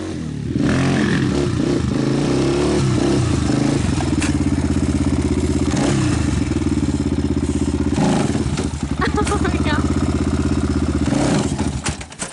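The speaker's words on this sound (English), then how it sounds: "This wheelie I go from first to second and then to third." An ATV engine revs hard and steadily through a wheelie, climbing as it shifts from first to second to third gear, with brief dips at each shift; loud, close and continuous.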